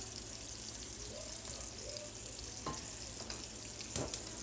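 Fish frying in a pan of oil, a steady close crackle and sizzle with a few sharper pops and faint clinks of a utensil near the end.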